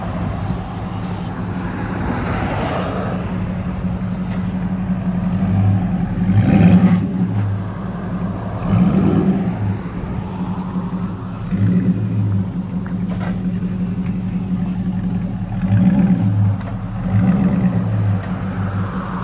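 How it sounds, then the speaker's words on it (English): A 1966 Dodge D-100 pickup with a Hemi V8, X-pipe and Borla ATAK exhaust idles with a deep, steady burble, broken by four or five short throttle blips that swell and fall back, close and alone. "A little rev here and there is better than nothing."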